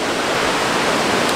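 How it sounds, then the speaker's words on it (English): Ocean waves washing up close to a beachfront hotel in Italy, a steady broadband roar of surf with no break, loud and near. "The waves are literally coming all the way up to the hotel"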